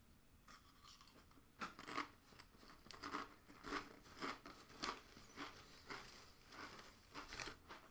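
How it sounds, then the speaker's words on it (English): Crunchy Doritos chips are bitten and chewed close up in a quiet room, a run of sharp, crackling crunches that come in an uneven rhythm. "That's enough Doritos for right now."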